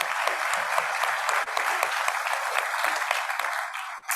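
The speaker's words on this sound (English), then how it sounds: "So let's give a big round of applause to the main streets." Steady round of applause from an audience at a city's state-of-the-city address, dense, even clapping across the whole stretch with no talking over it.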